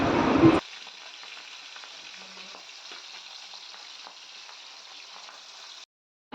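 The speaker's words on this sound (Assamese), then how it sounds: "প্ৰায় মোৰ মাছকেইটা ভাজি হৈয়ে গ'ল।" Whole pabda fish fry gently in a wok of oil with a steady, even sizzle of moderate loudness, after a brief louder clatter at the start.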